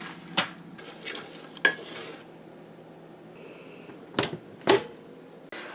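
Peas hitting a hot pan and being stirred, with a few sharp scraping clatters over a low continuous sizzle, close and moderately loud.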